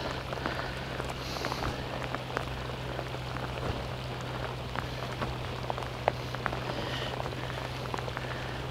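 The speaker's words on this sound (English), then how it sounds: "Get this bloody hood up. It's raining cats and dogs." Steady, dense patter of heavy rain on a surface, with scattered sharper drips and a low constant hum underneath, sustained throughout, at a riverside fishing spot.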